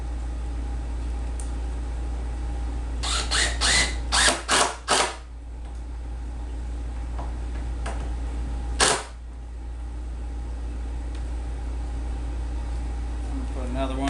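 A power drill drives screws into a wooden speaker box in short whirring bursts, a quick cluster of four or five followed by a single burst later, over a low steady hum.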